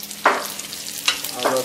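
Food sizzles steadily in a stainless steel frying pan, broken by three brief scraping stirs, with no talking.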